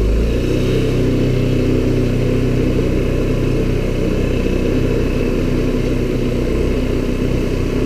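A 2016 TaoTao ATA150G automatic ATV engine runs steadily and loud up close, a continuous mid-pitched motor drone that shifts slightly as the quad backs up and drives forward, with no talking.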